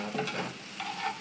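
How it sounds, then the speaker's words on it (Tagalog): Onions and garlic frying in a pan for squid adobo are stirred briefly, giving a soft sizzle with a couple of scraping strokes over about a second. "Haluin natin siya."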